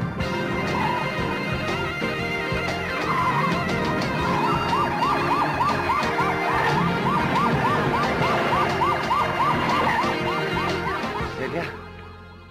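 Police car sirens wailing loudly in a Filipino action comedy film, a repeating rising-and-falling whoop cycling steadily over engine and street noise before fading out at the end.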